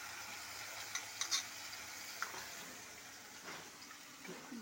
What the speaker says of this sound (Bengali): কষাচ্ছি।